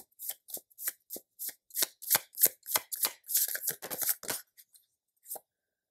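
Tarot cards being shuffled by hand, a quick run of crisp riffling snaps and slides close up, ending with a lone card pulled after a short pause.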